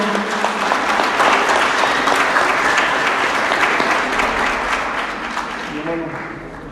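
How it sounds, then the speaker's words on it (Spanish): A church congregation claps in welcome, a full steady burst of applause that gradually fades out, with voices mixed in. "vamos a dar un aplauso de bienvenida"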